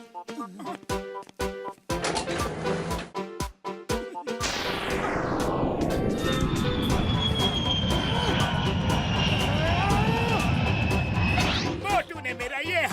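A cartoon train rushes along a railway track toward a broken bridge: rhythmic clacking gives way to a loud, sustained rumble with shrill squealing wheels that ends in a clattering burst.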